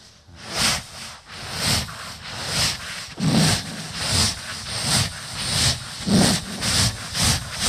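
A voice imitates a train on a comedy stage, with rhythmic breathy hissing bursts like a steam engine chugging, repeating steadily and loudly with no other sound.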